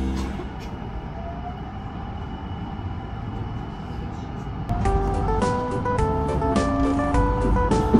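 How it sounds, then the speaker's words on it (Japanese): Inside a JR West rapid service train departing Kobe Station, a low rumble grows as it starts moving, then an electric motor whine rises in stepped tones. "新快速電車神戸駅を発車しました"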